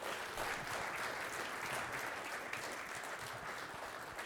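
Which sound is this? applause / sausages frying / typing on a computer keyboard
applause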